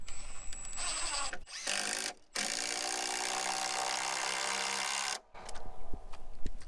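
An impact driver drives screws into a DIY gate in a few sustained, loud mechanical whirring bursts separated by short pauses, with no talking over it.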